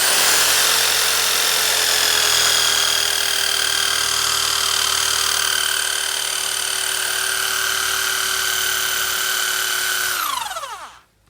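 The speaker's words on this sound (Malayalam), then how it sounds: "അപ്പോൾ ഇതിനകത്തേക്ക് നമ്മൾ ഇപ്പം ഹോൾ ചെയ്യാൻ പോവാം." A power drill bores a hole into an agarwood tree trunk for inoculation, a loud, steady, high-pitched whine holding close for about ten seconds before the motor spins down abruptly to silence.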